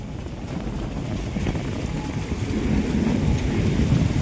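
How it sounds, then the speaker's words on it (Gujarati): A storm roars with heavy rain and a low rumble of thunder under strong wind buffeting the microphone, forming a continuous dense wash that slowly grows louder. "ભગવાન કેવો વરસાદ ગાજે પણ છે."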